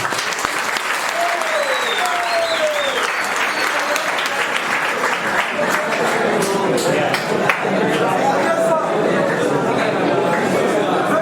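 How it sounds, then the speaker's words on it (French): Loud, continuous applause from a crowd of new university students at a welcome event, with chatter and voices mixed in throughout. "Est-ce qu'on peut applaudir pour ça?"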